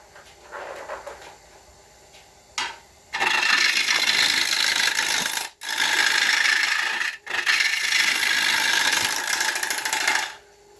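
Ash wood turning on a lathe at 500 rpm: a faint hum, then bursts of harsh scraping and rasping as the tool cuts, broken by two brief pauses.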